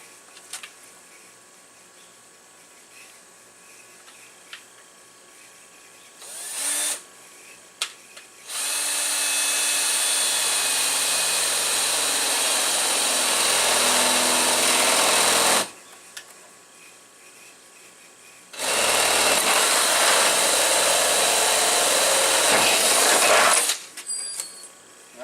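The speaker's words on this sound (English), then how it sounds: "we're going to start by drilling a hole in the corner, and then we're going to cut out from there." Power drill bores a starter hole in a corner during a window installation, then a louder power tool cuts out from it; two long, loud, steady bursts of whining cutting separated by quieter pauses.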